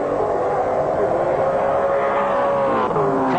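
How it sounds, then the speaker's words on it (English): A 1995 Australian Touring Car Championship car driven by Neil races at Symmons Plains, its engine revving hard and loud, with a sustained, rising and falling howl that stays close throughout. "And listen to Neil's engine there."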